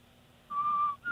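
A radio show caller whistles live over the phone line on a Boston public radio broadcast: a clear, steady high note held for about half a second, a brief break, then a second note starting, with no talking.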